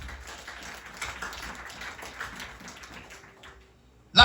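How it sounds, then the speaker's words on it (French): A church congregation applauds during a sermon: sustained, fairly distant crowd clapping that thins out toward the end, closing with a sharp close knock. "applaudissements pour ça"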